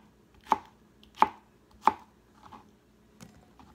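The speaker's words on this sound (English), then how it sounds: "And I'm just going to just chop them up." A knife chops serrano and jalapeno peppers on a cutting board in three sharp, evenly spaced thuds, followed by a few softer, lighter cuts in a quiet room.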